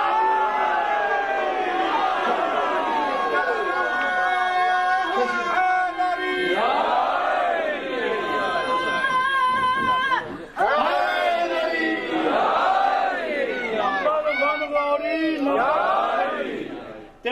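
A large crowd at a religious gathering chants the Nara-e-Haidari slogan, loud massed voices rising and falling in repeated surges across the whole stretch, full and near, with harmonic shouted tones and no solo speech.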